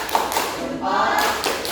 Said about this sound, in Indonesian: Kita berikan tepuk salut